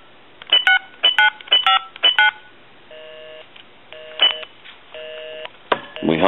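A Kellogg wood wall crank telephone dialing out: rapid bursts of touch-tone beeps in quick groups, then a few longer separated tones, ending with a handling clatter, fairly close and clear.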